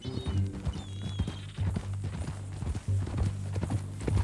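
A horse walks along in the Red Dead Redemption 2 video game, its hooves clip-clopping in a steady rhythm, close and moderately loud over a low ambient hum.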